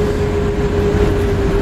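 An EP09 electric locomotive starts off in the MaSzyna train simulator game, a steady low rumbling drone with a sustained electric hum tone, loud and even across the short stretch.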